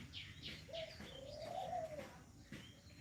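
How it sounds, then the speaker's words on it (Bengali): Pigeons coo softly close by after bathing in a pool in the morning, a low rolling call with faint chirps and light rustling around it in a quiet setting. "সকালবেলা কবুতরগুলো ছাড়লাম ছাড়ার সাথে সাথে গোসল করলো সবাই"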